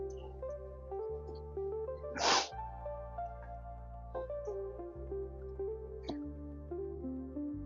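A single sharp sneeze bursts out near the two-second mark over steady background music, briefly louder than everything else.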